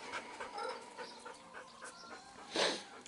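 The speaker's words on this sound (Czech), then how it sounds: "mě furt obtěžuje pes" A dog pants close by in rapid, breathy rhythm, with faint whimpers and a louder burst of movement near the end, inside a space where off-road vehicles are being worked on; no speech.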